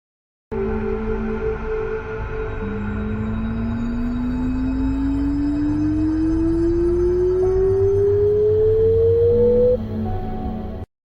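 A steady sine tone from a signal generator glides slowly upward from 200 to 500 Hz over about seven seconds, over a dense background of music-like tones.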